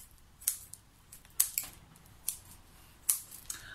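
Scissors trim moss on a kokedama, giving five or six short, crisp snips spaced irregularly against a quiet room, faint but close.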